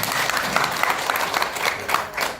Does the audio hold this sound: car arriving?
no